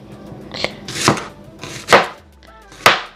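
A knife chops through a purple onion on a board for Jamaican steamed cabbage, three crisp, separate chops about a second apart, close and clear with no talk.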